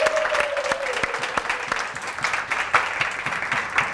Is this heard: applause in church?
yes